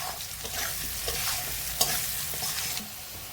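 Kashmiri chilli powder being stirred into a frying dish of egg and aubergine, with steady sizzling under repeated scraping strokes of a spoon against the pan, close and fairly loud, with one sharper clack partway through.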